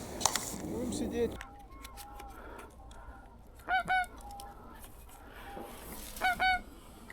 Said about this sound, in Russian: над тем же местом прошел еще один табун гусей